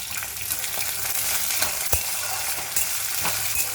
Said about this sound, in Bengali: অল্প করে ভাজবো, কারণ অলরেডি এটা ভাজা বাদাম